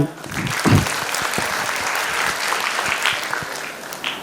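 A crowd bursts into loud applause that keeps going steadily, with a voice speaking over the clapping, at a school annual function.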